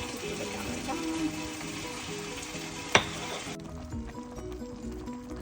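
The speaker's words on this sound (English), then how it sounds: "So I've left the white sauce cooking" White sauce for a chicken lasagne simmers and sizzles steadily in a pan, a close, continuous low bubbling hiss with one sharp clink midway, no talking.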